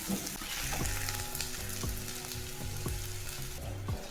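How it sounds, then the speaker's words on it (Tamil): Onions and three garlic cloves fry in oil toward golden brown, giving a steady, close sizzle broken by regular taps of stirring. "இது ரெண்டையும் சேர்த்து நல்லா கோல்டன் ப்ரௌன் கலரில் ஃப்ரை பண்ணி எடுத்துக்கிறேன்"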